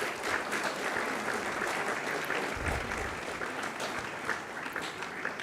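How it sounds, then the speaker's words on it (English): Applause from a convocation audience for the dignitaries, dense steady clapping from a large crowd in a hot hall, sustained for several seconds with a brief low thump partway through. "Big round of applause for our dignitaries."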